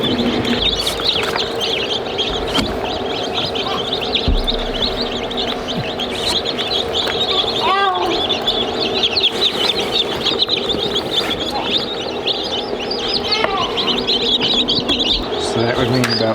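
Newly hatched Bielefelder chicks fill a brooder with constant high, overlapping peeping and chirping, dozens of birds at once, with occasional lower clucks and voices talking faintly in the background.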